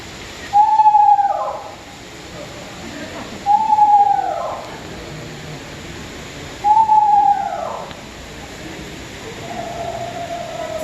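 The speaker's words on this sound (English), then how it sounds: "They have more of a high-pitched, wavering whinny that sounds something like this" An eastern screech owl at an outdoor bird show gives three high, wavering whinny calls spaced a few seconds apart, each a short descending trill, followed by a fainter softer note, over a quiet hiss of background.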